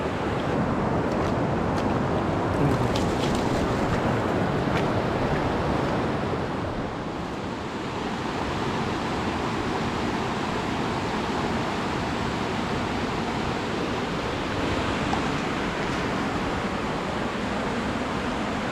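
Riverbank water flowing in a rural province setting, a steady broad wash of rushing water, close and continuous throughout, with some wind buffeting the microphone and no voices.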